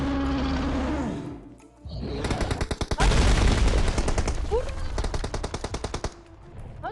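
Loud automatic gunfire from a video game comes in rapid rattling bursts. The bursts start after a brief pause and continue nearly unbroken, with faint voices in the background.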